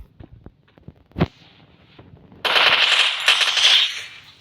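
Gunfire in a shooting video game: a few scattered single shots and clicks, then a loud sustained burst of automatic fire over the last two seconds.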